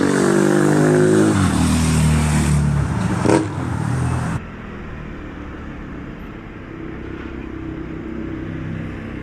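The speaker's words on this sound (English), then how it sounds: "Ooh, motorcycle." A motorcycle roars past nearby, its engine loud and rising before cutting away abruptly, leaving quieter road ambience behind.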